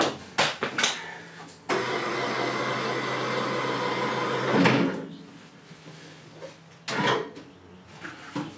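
A linear actuator retracting on a 2000 Club Car Turf II XRT gas utility vehicle gives a steady electric motor whine that runs for about three seconds, set between brief clicks and knocks, close and fairly loud.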